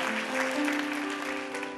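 Applause from a church congregation at a Christmas service, a steady wash of clapping beneath a sustained musical tone, moderately loud and continuous.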